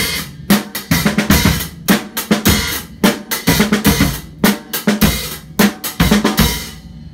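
A drum beat in 9/8 time, starting on a pickup: loud, close hits with kick thumps and bright cymbal wash in an irregular, lopsided pattern that repeats without pause.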